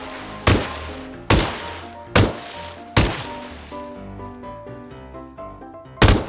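Five sharp gunshots fired into the sea in PUBG, spaced irregularly with ringing tails that decay under a faint musical tone, loud and close with no talk.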